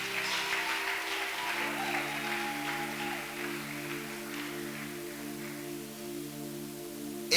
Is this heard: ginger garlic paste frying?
no